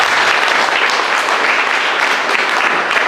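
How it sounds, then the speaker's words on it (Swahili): A church congregation at a Mother's Day service claps for the mothers, a loud, dense, sustained round of applause filling the room. "Kama si tupi, wapigie makofi tena."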